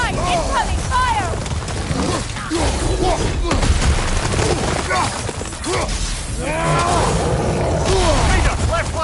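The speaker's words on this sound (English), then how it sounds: "Incoming fire!" Chaotic battle from God of War Ragnarok with incoming fire: loud booms, shattering crashes and bursts of barrage-like impacts, dense and continuous, with shouted voices and creature cries layered over the din.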